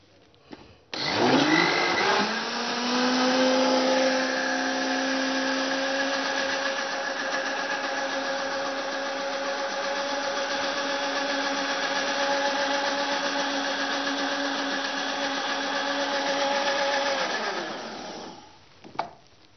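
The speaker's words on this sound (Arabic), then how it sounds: "كويس في الخلاط لحد السكر ما يدوب وكله يدوب مع بعض" An electric blender whips cake batter with sugar for a yogurt cake made without oil, a loud steady motor whir running for about seventeen seconds between a clear start and stop, with no talking.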